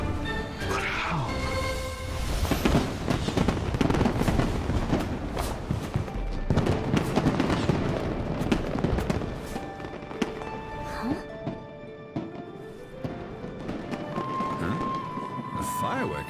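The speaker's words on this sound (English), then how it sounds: "A fireworks show?" Fireworks show in the video game Genshin Impact: repeated thuds and crackling bursts layered over game music, dense and loud throughout, with a voice speaking at moments.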